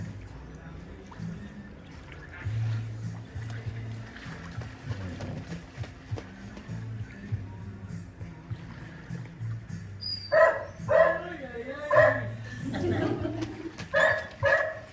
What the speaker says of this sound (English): Identify the dogs too.